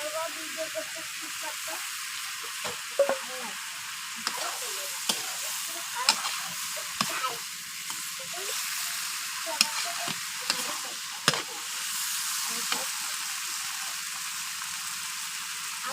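Spinach, eggplant and fried shrimp stir-fried in a pan, with a constant loud sizzle broken by repeated scraping and clacking of a spatula against the pan, while a voice talks over it.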